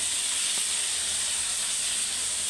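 Tomatoes frying in hot oil for Sri Lankan-style egg sambal give a steady, close hiss that holds evenly throughout with no talking.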